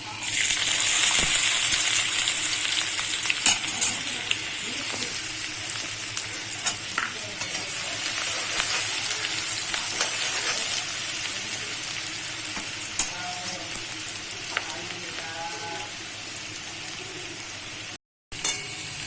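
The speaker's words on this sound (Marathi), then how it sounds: "तेल गरम झालेलं आहे. आता यामध्ये आपण कांदा टाकून घ्यायचा." Onion frying in hot oil in a pan for a Marathi fish curry, with a loud continuous sizzle and the scrape of stirring running throughout, ending in a brief dropout.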